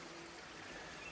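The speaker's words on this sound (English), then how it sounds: "got a lovely little kind of waterfallish stream that goes all the way down" A small waterfall-like stream flows steadily downhill toward a river in Low Bradfield in the Peak District, a faint, even rushing hiss with no break.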